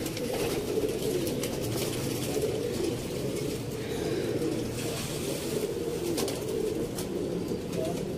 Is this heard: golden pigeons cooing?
yes